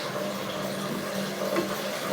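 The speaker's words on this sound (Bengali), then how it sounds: "পাঁচ 6 মিনিট মশলাটাকে কষিয়ে নিই।" Spice masala for a village-style chicken bhuna being sautéed in a pan, a steady, close, bubbling sizzle that runs without a break through a short stretch.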